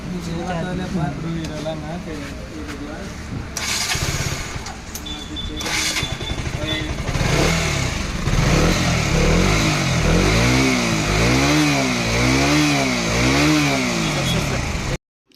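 A KTM Duke motorcycle with a magnet coil fault and starting trouble runs up close, its engine droning steadily before climbing into repeated loud revs in the second half.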